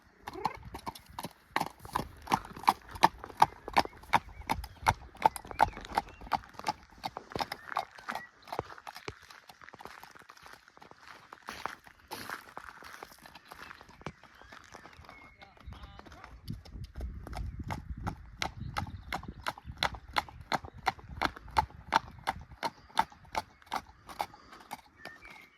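A Welsh cob being ridden makes steady, even clip-clop hoofbeats throughout, close and clear, with a brief softer stretch in the middle.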